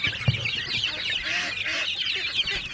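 A busy chorus of high-pitched peeping and chirping from turkey chicks on a farm, steady and continuous throughout, close by with no talking.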